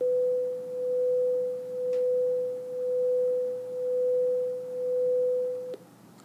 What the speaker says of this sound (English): here are two tones, one 500 hertz, one 501 hertz, played at the same time.